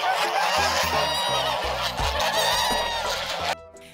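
Geese honk loudly and repeatedly in a Russian farmyard, a dense overlapping chorus of calls close by that cuts off abruptly near the end.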